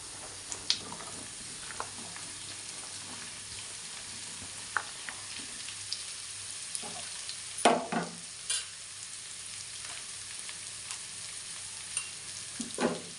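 Cut okra frying in a pan, with a steady low sizzle broken by occasional scraping knocks of a spoon as it is stirred; no voices.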